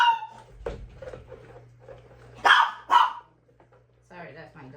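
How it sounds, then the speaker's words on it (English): A dog barks a couple of times mid-clip, moderately close, indoors in a soap-making studio, with a person talking before and after. "Sorry, that's my dog."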